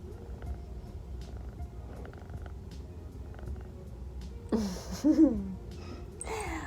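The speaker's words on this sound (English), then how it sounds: "You can hear her purring." A soft, steady low rumble of a kitten purring runs close by, with a few brief louder rustles and breaths near the end.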